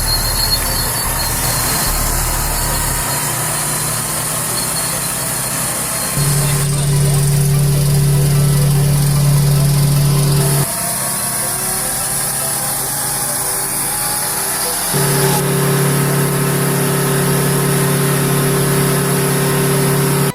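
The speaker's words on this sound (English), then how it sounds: "yet the truck just keeps on chugging along, unstoppable" A loaded Kenworth W900A logging truck hauling timber labors uphill with a heavy droning engine, its pitch stepping up and down through gear changes, loud and steady, with no talk.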